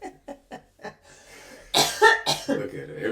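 A woman coughs several times, short sharp bursts, followed by louder throat-clearing and coughing with talk and laughter mixed in, close to the microphone.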